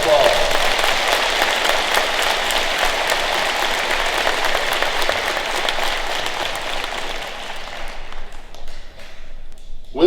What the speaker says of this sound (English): Could we give these rising freshmen a round of applause?